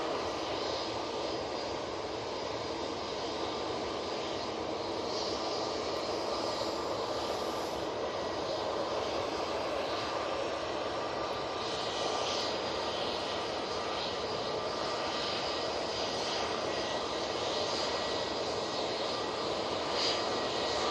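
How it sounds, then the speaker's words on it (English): EasyJet airliner at Manchester Airport heading for Paris Charles de Gaulle, its jet engines giving a steady, broad roar near the runway that holds at an even level throughout with no voices over it. "this EasyJet is off to Paris Charles de Gaulle"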